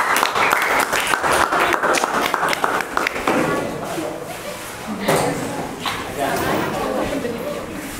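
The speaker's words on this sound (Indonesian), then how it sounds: "kita beri aplaus yang meriah" An audience applauding a presenting group at a classroom or workshop session, dense sustained clapping from many hands, loud and close throughout, with a voice speaking over it.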